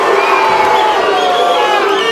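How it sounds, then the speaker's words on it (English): Boxing arena crowd at a Diosdado Gabi vs Vic Darchinyan fight, a dense wall of shouting and cheering that stays loud and steady without a break. "I don't know what the crowd is unhappy about."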